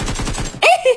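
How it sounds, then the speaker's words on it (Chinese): A G3 rifle fires a rapid burst of about half a dozen loud shots in the mobile shooter game Peace Elite, followed by a brief tonal in-game sound. "听他这个枪声，手里面竟然还有一把大G3"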